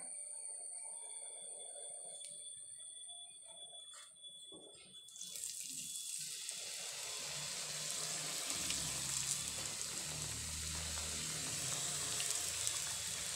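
Vegetable samosas go into hot oil, with a quiet stretch before a broad, continuous frying hiss rises and holds steady up close, alongside a faint high tone.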